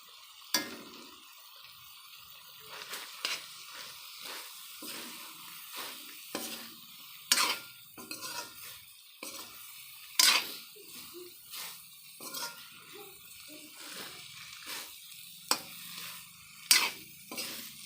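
Spice paste is added to drumstick pods frying in a pan, then stirred: a soft sizzle under a string of close, irregular spatula scrapes and metallic clinks, with quiet gaps between strokes.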